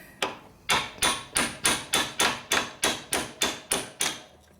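Eleven sharp, evenly spaced hammer strikes ring out on the clutch shaft of a 1972 Harley-Davidson XL Ironhead Sportster during a primary repair, loud and close with a short decay after each blow and no talking.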